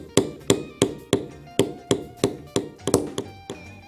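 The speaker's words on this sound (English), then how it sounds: "now I'm using a large beveler, as we did before, to bevel the inside of the border line" A large beveler struck into leather along a border line, giving about a dozen sharp, evenly paced mallet taps, close and distinct with brief ringing decay and no talking.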